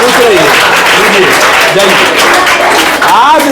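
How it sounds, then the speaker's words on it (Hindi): An audience claps in a steady, dense burst of applause, loud and close, while voices carry over the clapping throughout. "ताली बजाओ भाई एकदम"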